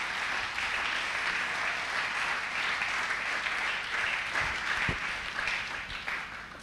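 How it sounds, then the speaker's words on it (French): A church congregation at a French-language service breaks into steady, moderately distant applause that carries on throughout, with a few louder claps near the end. "Acclamons le Seigneur."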